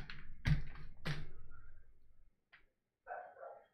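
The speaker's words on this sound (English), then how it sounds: "Oh, my dog is barking again." A female guard dog barks at home, with several sharp, fairly close barks in quick succession followed by a few softer yips and whimpers after short pauses.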